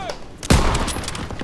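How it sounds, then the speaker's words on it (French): Machine gun in a WWII video game set in the attack on Marigny: a sharp loud burst opens a short rattling volley of rapid shots, with faint voices underneath. "Daniel, c'est la mitrailleuse, tu as frappe."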